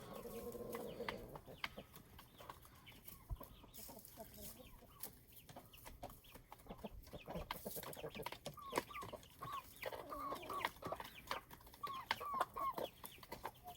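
Chickens cluck and murmur continuously at moderate distance, with scattered clicks and light rustling around them and no talking.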